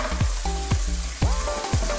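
Chicken pieces, gnocchi and olives fry in a pan in a cream sauce, giving a steady close sizzle broken by a few sharp bursts and scrapes as ingredients drop in or get stirred, with no voices over it.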